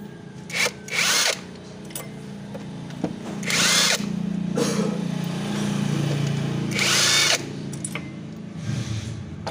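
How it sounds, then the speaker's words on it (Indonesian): An impact wrench removes the crankshaft pulley bolts on a Kia Visto / Hyundai Atoz during a water pump replacement, with four short, sharp rattling bursts close by, separated by quieter workshop noise. "Pakai impact aja biar cepat"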